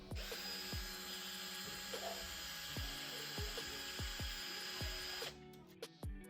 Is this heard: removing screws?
yes